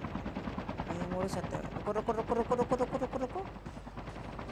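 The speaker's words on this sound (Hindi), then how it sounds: "तुम यहाँ बैठ के हेलीकॉप्टर उड़ाओ।" Helicopter in Call of Duty Mobile, its rotor chopping in a rapid pulsing beat that swells louder in the middle, mixed with game noise while a voice speaks briefly.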